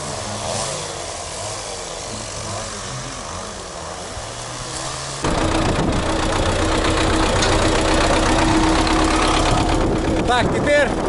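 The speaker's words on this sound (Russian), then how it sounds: "Так, теперь очищенную от деревьев площадку очищает трактором." A Belarus tractor engine runs steadily while clearing felled ground near a power station in a Yakutian forest, its low rumble growing louder and rougher partway through, with voices speaking over it.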